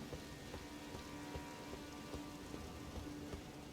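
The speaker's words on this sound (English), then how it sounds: "Oh, the rain is subsiding." Steady rain pours down in the video game Elden Ring: Shadow of the Erdtree, a dense, even hiss of drops on surfaces with scattered heavier patters, no one talking over it.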